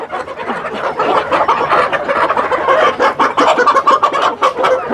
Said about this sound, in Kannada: ನೋಡಿ ನಾಟಿ ಕೋಳಿ ಹಿಂಗೆ ಹೊಡ್ಕೊತಾ ಇರಬೇಕು